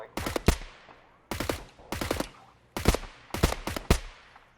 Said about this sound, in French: Ah, c'est toi qui me tire dessus.